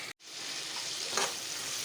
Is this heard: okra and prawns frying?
yes